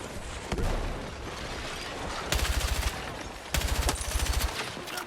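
Rapid bursts of BROD 3 gunfire in Battlefield 6, loud and close, coming in two sustained stretches of fast repeating shots over a constant backdrop of battle noise.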